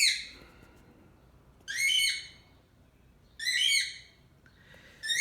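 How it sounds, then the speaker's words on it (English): A bird outside gives loud, harsh squawking calls, three bursts with gaps of about a second and a half between them, standing out clearly over a quiet background. "I'm gonna fucking kill that bird."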